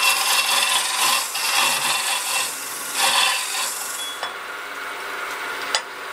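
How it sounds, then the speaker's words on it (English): A hollow wood form spins on a lathe as a tool hollows it with the overhand technique, a loud rasping scrape that swells and eases in passes before dropping away to quieter scraping with a couple of sharp ticks, no talking. "Start bringing the speed up to a safe speed for your method of hollowing. Let's use the overhand technique to start with."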